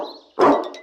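A fierce dog lying inside a garbage bin in a cartoon makes one short, loud, rough bark or growl close up, preceded by a faint lower rumble.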